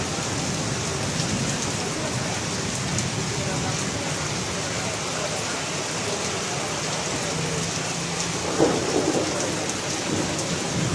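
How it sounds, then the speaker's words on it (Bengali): Heavy monsoon rain pours down outdoors in a dense, steady roar of drops hitting surfaces, continuous and close, with a brief louder disturbance near the end. "বৃষ্টিটা হেভি জোরে হচ্ছে"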